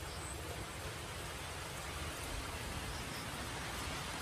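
Rain falling outdoors on a farmyard with geese and chickens, a steady, even hiss of drizzle without pause, fairly faint and heard on its own with no talk.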